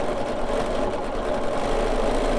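A sewing machine stitching a collage quilt, a steady rapid mechanical whir and patter heard up close without pause.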